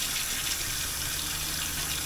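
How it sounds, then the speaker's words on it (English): Hot water runs steadily from a tap in a Ford Transit camper van with a Kuuma hydronic water heater, a continuous close hiss of flowing water with no talking. "I'm going to turn on the hot water"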